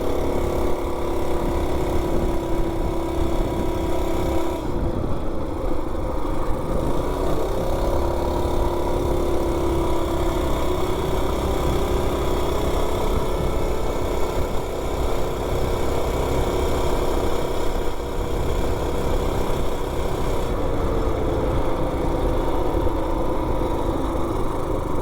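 A Coleman B200 mini bike engine fitted with a 42 sprocket runs steadily through a neighborhood ride, a constant buzzing drone with mild shifts in pitch as it eases on and off the throttle, no voices.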